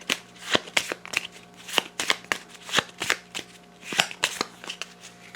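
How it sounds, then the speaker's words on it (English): A deck of Mythos cards being shuffled at a tabletop game session: a series of crisp riffling snaps and slaps, close and distinct, repeating in irregular bursts with short pauses between. "The Mythos deck shuffled."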